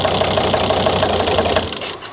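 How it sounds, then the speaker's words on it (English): A 2003 Volvo XC90 D5 diesel engine idles with a misfire traced to injector 4, giving a steady, close knocking rhythm that drops slightly near the end. "Still misfiring in the same way on injector 4."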